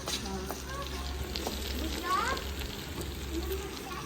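Okra (bhindi) frying in a pan over a wood fire in a village kitchen, a steady crackling sizzle with occasional stirring, close by and continuous.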